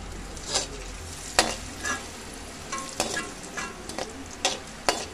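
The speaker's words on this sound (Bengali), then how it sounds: "এবারে কিশমিশগুলো দিয়ে দেবো।" Raisins hit hot ghee in a pan and are stirred, as for a Janmashtami festival dish. A spoon scrapes and taps in separate, irregular strokes over a quiet, faint sizzle, with no talking.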